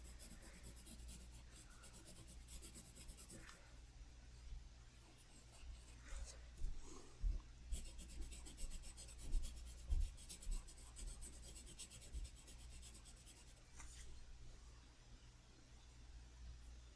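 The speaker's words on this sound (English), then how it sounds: "I'm going to erase some of these pencil marks that didn't really get erased." Rubber eraser scrubbing pencil marks off paper during a colored-pencil drawing, a faint continuous scratchy rubbing with short irregular strokes, close and quiet, with no talking.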